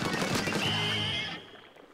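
Ink weapons firing in Splatoon during a Turf War match make a dense, loud spraying rush that holds steady, then thins and fades away near the end.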